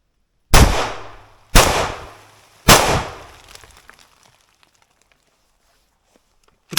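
An AK-74 rifle fitted with a wolf-tooth muzzle brake fires three loud, sharp shots about a second apart outdoors, each followed by a decaying echo, then quiet.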